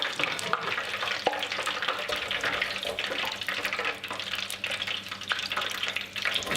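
Steady, dense crackling and bubbling of Scotch eggs deep frying in hot oil, continuous and fairly loud throughout.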